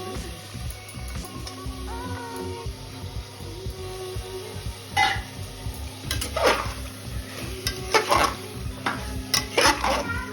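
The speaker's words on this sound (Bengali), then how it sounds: "এবার আমি মাটনটা দিয়ে কষবো" Mutton stir-fried in a pot with burnt spices for a curry: repeated scraping and clanking of a ladle against the pot over a bubbling sizzle, growing busier and louder toward the end.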